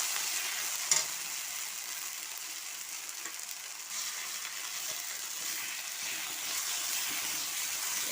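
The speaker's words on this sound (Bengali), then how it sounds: "এখন আমি এই যে মশলা বাটাটা দিয়ে দিচ্ছি।" A paste of ginger, garlic, green chili and cumin fries with fried onions in hot oil, making a steady, close sizzle with a clatter of stirring near the start and no talking.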